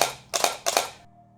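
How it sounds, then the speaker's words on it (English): A DSLR camera fires twice in quick succession, each mirror flip and shutter release making a crisp, close mechanical clack-clack, followed by a brief quiet. "the mirror moves, of course, every time when you press the shutter"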